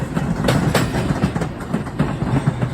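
A train rolls past on the tracks along Chicago's Roosevelt Road, a loud close rumble with rhythmic clickety-clack of wheels over rail joints, heard alone.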